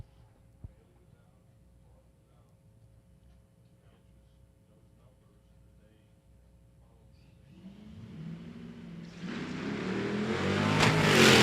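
Drag race cars, a 1980 Ford Fairmont and a wheel-standing 1972 Mercury, launch at Cordova Dragway: near silence for several seconds, then engine roar swells steadily into a loud, wide-open revving blast.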